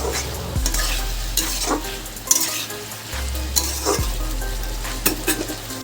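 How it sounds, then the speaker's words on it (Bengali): Slit green chillies fry in a pan for a drumstick curry, with a strong continuous sizzle. A spoon scrapes and clanks against the pan in irregular strokes throughout, close and loud. "এবার আমি এর মধ্যে কটা দেখো চেরা কাঁচা লঙ্কা দিয়ে দিলাম ব্যাস আর একটু আমি দু তিন মিনিট কষিয়ে"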